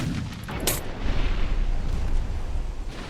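A deck torpedo launcher exploding aboard a warship in Ultimate Admiral Dreadnoughts, a loud close blast with a sharp crack and sustained rumbling debris, no speech.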